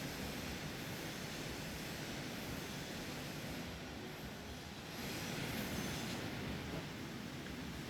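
Trains rumble continuously in the railway simulation game Transport Fever 2, a steady, dense wash of rolling rail noise with no distinct events and no talk.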